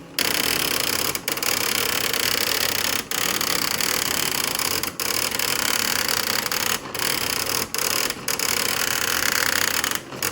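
A daisy wheel printer chatters out text in a fast, close mechanical rattle, broken by brief regular pauses between printed lines.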